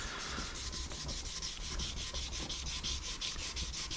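Melomotive sanding block worked by hand with light pressure, a fast rhythmic scratchy rubbing in even back-and-forth strokes, close and steady with no voices.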